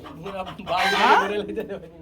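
Chickens cluck and squawk close by in a drawn-out, wavering call, with a low murmur underneath.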